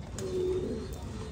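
American Giant pigeons on a farm give a soft, brief coo, a faint low note held for about half a second over quiet background noise.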